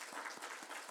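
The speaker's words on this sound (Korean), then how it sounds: "하나님께 영광의 박수를 한번 올립시다." Applause from a church congregation during a worship service, a steady dense wash of many hands clapping filling the whole second at moderate level.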